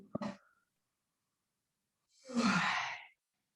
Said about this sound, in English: And make an artificial yawn.